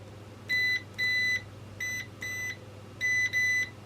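A multimeter in continuity mode gives six short electronic beeps in three pairs while probing a switch in a Rotel RVC-230 being repaired. The tones are clear, fairly loud and steady, over a low background hum.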